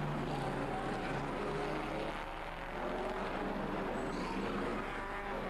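A historic Bugatti Type 35B race car at Monaco, its engine a continuous loud rasping drone with shifting pitch as it runs through the street circuit amid ambient track noise.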